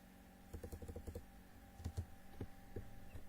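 Soft, quick keystrokes on a computer keyboard as a comment is typed, coming in two clusters of clicks with a pause between them over a low steady hum.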